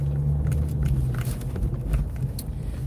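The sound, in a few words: road traffic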